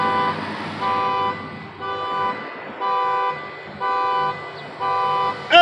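A car alarm sounds at a campsite, blaring a loud, tonal horn in regular bursts about once a second with short gaps between them.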